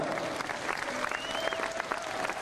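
A large crowd at a darts tournament in Prague applauds steadily throughout, a dense wash of clapping, with a faint tone sounding briefly over it.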